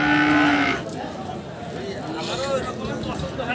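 A young heifer calf at a large cattle market in North Bengal moos loudly and up close at the start, then a second, softer moo follows amid market babble and nearby voices talking.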